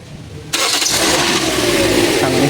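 A 2017 Toyota Corolla Altis with a newly fitted starter cranks briefly and fires up at once, settling into a steady, loud idle that fills the rest of the moment close by.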